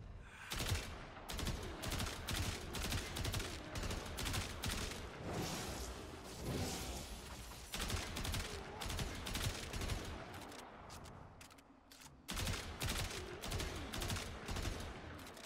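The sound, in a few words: Tiberon Prime rifle gunfire in Warframe video game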